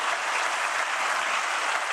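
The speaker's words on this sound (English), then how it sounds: "Another round of applause" An audience applauds at the opening ceremony of the Africa CEO Forum summit in Kigali, giving a dense, even round of clapping that holds steady throughout.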